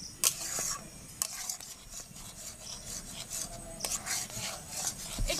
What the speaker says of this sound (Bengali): একটু ধৈর্য ধরে ঘিটা ভালোভাবে নাড়িয়ে যেতে হবে।